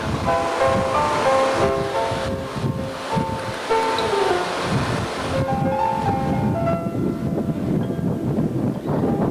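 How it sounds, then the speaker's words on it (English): Steady, loud wind roars across the open deck of a cruise ship heading toward the bow, a continuous broadband rush with sea and surf noise mixed in, some faint tonal hums and rattles underneath, and no talk. "You can hear the wind."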